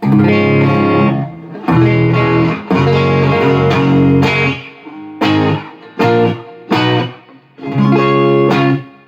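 Electric guitar played in chord bursts with short pauses between, through a Peavey Bandit amplifier with its bright switch engaged, drenched in lush, smooth reverb that hangs after each strum.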